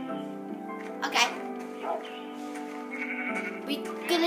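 A sheep bleats a few times in the Minecraft video game, with soft game sounds and a voice talking over it.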